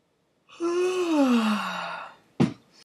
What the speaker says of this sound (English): yawning is contagious